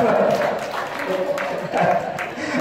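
An audience applauds at a stage event, a broad patter of clapping mixed with crowd noise and speech over the top.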